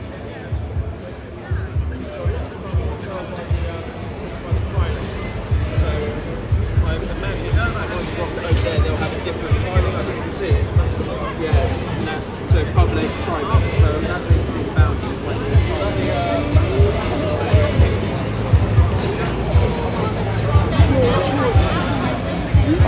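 Crowd gathering at a Turning Point UK protest outside BBC London, a steady murmur of many voices with chatter and scattered footsteps or bumps, continuous and fairly close throughout.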